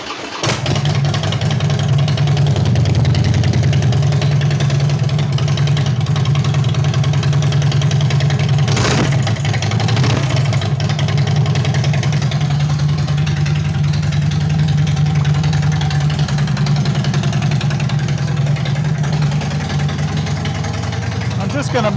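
Harley-Davidson motorcycle idling with no baffles in the exhaust, a loud, steady low rumble lasting throughout with a brief blip midway.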